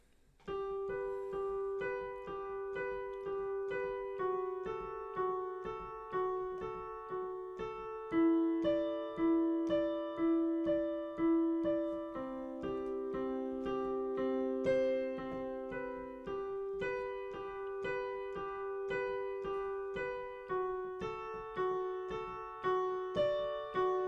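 A piano plays a slow, gentle intro of a song in repeated chords and single notes, soft and steady with no voices.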